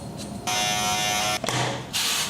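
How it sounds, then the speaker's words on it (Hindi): An electric beard trimmer buzzes over stubble that is already shaved, with a close, steady whine that cuts out briefly and then starts again. "जो दाढ़ी पहले से ही शेव्ड है उसके ऊपर ट्रिमर मारना है"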